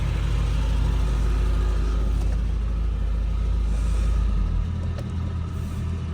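A roughly 40-year-old BMW E30 engine running with the choke on after long storage, heard as a steady close low rumble that eases slightly toward the end.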